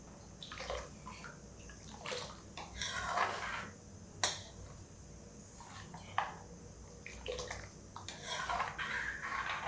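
A spoon stirs besan kadhi made with buttermilk in a cooking pot until it boils. Close scraping and clinking comes in irregular strokes, with a couple of sharper knocks against the pot.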